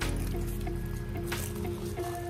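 Purified water from a water-fed pole is sprayed onto commercial window glass. It drips and squishes in a close, wet patter, with a few brief tonal squeaks repeating under a steady hiss.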